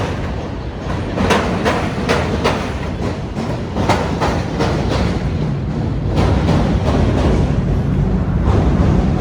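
A train rolls past close by near the Chicago River, a steady loud rumble with rhythmic clickety-clack of wheels over rail joints throughout, no voices over it.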